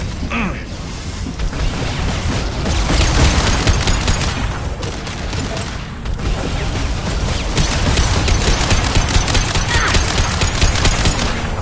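Heavy gunfire in Mass Effect 2: dense, continuous volleys of shots and mechanical clatter, loud and close, with brief lulls near the start and middle and no clear speech.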